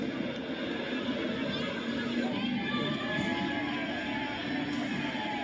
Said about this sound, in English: Thousands flooded Union Square, and when Sanat showed up, chaos ensued.